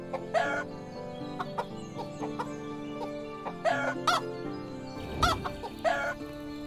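Chickens in the medieval video game Medieval Dynasty cluck and squawk in scattered short bursts over a quiet game soundscape with faint background tones, without speech.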